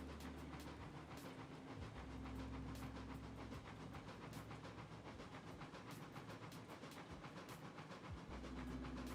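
A steam locomotive chuffs in the Railroads Online game, sending out a fast, regular series of sharp exhaust beats over a low rumbling hiss as it gets under way, with no talking.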